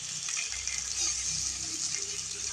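Water pours steadily into a pan of simmering prawn curry with poppy seed and white mustard paste, a continuous close, fairly loud gushing hiss lasting the whole stretch with no talking.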